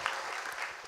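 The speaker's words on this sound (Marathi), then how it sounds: "टाळी वाजवा टाळी" Audience clapping at a Marathi kirtan devotional gathering in a village, a dense continuous patter of many hands held at steady loudness throughout, with no speech over it.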